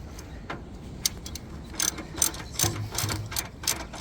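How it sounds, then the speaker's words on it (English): Ratchet clicks in quick, uneven bursts while bolts are tightened on a front bumper for a Jeep Wrangler Rubicon 10th Anniversary edition, close up and moderately loud over a low background hum. "So you finish by tightening up all the bolts to hold."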